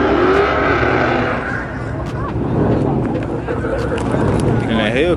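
A Dodge Hellcat engine revs and roars at a crowded Saturday night car meet, its rumble running steadily beneath loud, close talking and shouting from people nearby.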